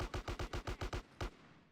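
Gunfire in GTA San Andreas during a gang fight mission: a quick run of about eight evenly spaced loud shots, a short pause, then one last shot that fades into a decaying echo.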